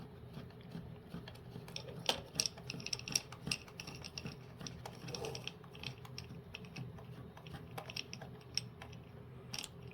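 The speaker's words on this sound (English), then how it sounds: "you hold a nut against the screw, and then you screw in from the other side with a screwdriver" A screwdriver turns a small screw into a nut held against a robot chassis, making quiet, scattered light clicks and scrapes close up.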